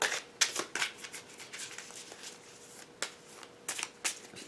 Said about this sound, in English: Shuffling them, no problem shuffling them.